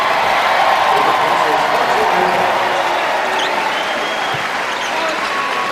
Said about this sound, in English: Crowd cheers as DeAndre Liggins checks into the game for the first time.